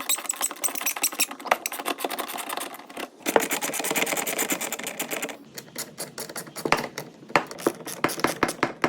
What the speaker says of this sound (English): You want to use a Torx, I think this is a 25. Make my camera kind of zoom in here. Yep, a 25, and just take those 4 screws off.